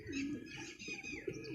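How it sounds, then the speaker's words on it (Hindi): A dark pigeon nearby gives soft, rounded coos in short repeated phrases, close and fairly quiet with light background noise and no voices. "देर से कबूतर फिर रहा है सामने"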